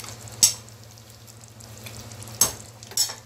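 A pan of fish curry simmers and bubbles with a soft steady sizzle, and a few sharp scrapes of stirring break in.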